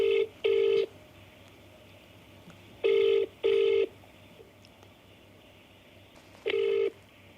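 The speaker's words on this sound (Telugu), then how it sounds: "రింగ్ అవుతుంది." A phone call rings back as the caller waits, giving three pairs of short, even ringback tones separated by pauses, steady and clear over a quiet line, with no talking.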